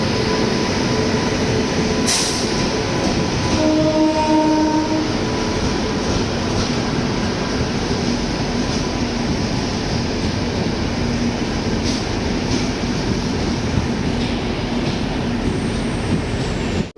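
A train rumbles loudly and continuously along the platform at Renigunta railway station, with a sustained roar of wheels on rails, a brief sharp clank early on and faint tonal squeals.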